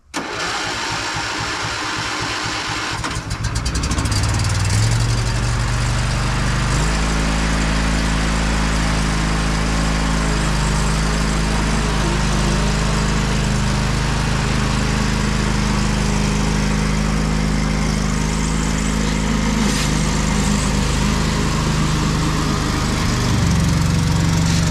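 A customer's lawn mower engine sputters into life after a few seconds of rough churning, then runs loud and close at a steady, droning pace whose pitch shifts slightly as it keeps going.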